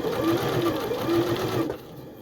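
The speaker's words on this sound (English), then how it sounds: "it definitely did a back stitch at the beginning" A Janome JW8100 computerized sewing machine stitches steadily up close, its motor humming with a rapid rhythmic needle pulse that briefly shifts as it runs a back stitch, then cuts off near the end.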